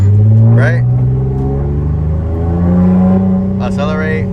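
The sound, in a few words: 7th gen Nissan Maxima with headers revving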